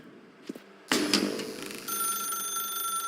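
A telephone in The Stanley Parable starts ringing abruptly after a couple of soft knocks, a bright, steady electronic bell that sustains loudly and alone.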